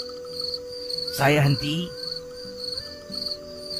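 Crickets chirp steadily in a quiet forest at night, a thin continuous trill close by, briefly interrupted by someone speaking a few words.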